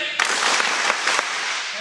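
An audience at a coaches' gathering claps together as a thank-you salute, a dense burst of applause with a few loosely synchronized accents, loud and close, lasting under two seconds.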